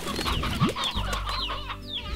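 Chickens clucking in the Slime Rancher video game, a cluster of hens giving repeated short clucks and chirpy calls close by, steady and busy throughout with no talk.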